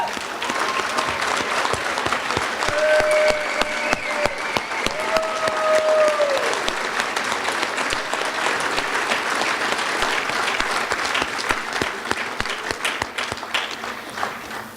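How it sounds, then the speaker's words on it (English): Banquet audience at a hospitality industry awards dinner applauding award recipients, steady loud clapping sustained throughout with crowd murmur beneath. "let's give them a big round of applause"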